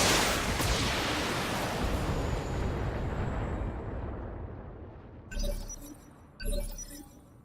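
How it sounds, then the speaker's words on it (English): BattleTech mech unloading every weapon at once in a video game: a huge roaring blast that slowly decays, followed by two shorter, punchy explosions, loud and with no talk over them. "We're gonna fire everything because we can."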